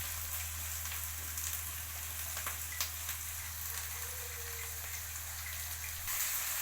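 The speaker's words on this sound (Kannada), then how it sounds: "ಬಟಾಣಿನೂ ಚೆನ್ನಾಗಿ ಫ್ರೈ ಮಾಡ್ಕೋಬೇಕು." Green peas fry with onions in a pan, giving a faint, steady sizzle with a few soft crackles and stirring scrapes over a low constant hum.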